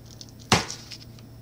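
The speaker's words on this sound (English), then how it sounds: "you're going to want to chop off some of this butter" A single sharp knife chop through a stick of butter on a cutting board while preparing scrambled eggs, one crisp close impact followed by faint clicks over a low steady hum.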